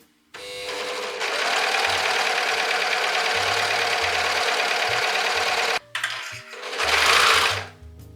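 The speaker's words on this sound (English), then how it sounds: "we're gonna overlock or zigzag stitch the entire outer edge, but not the straight edge" A sewing machine runs steadily and loudly as it overlocks or zigzag stitches the curved outer edges of mirrored dress pocket pieces, one long continuous run, a brief stop, then a shorter run.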